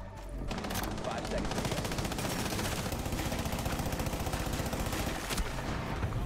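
Rapid, continuous gunfire in Rainbow Six Siege rattles nonstop through the whole stretch, dense and loud, with players' voices faintly underneath.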